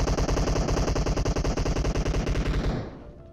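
Rapid automatic gunfire in the battle royale game PUBG, a loud sustained burst of evenly spaced shots lasting nearly three seconds before cutting off into a faint fading tail.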